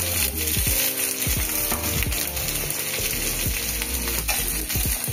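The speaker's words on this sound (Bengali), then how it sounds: "এবার কেটে রাখা পেঁয়াজ দিয়ে দিলাম।" Chopped onion and vegetables hit a hot pan and sizzle loudly and close. Scraping and knocking from stirring and squeaky tonal chirps run throughout, with no voices.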